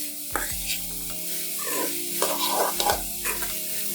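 Cabbage stir fry with grated coconut being stirred in a hot pan, a steady sizzle under scraping, clattering spoon strokes that come in short repeated bursts, close and clear.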